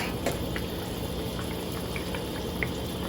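A covered pot simmers on the stove with a continuous low bubbling hiss and a few soft pops and blips rising through the steady noise; no one speaks.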